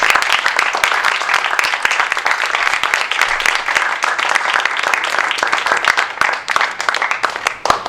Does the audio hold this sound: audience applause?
yes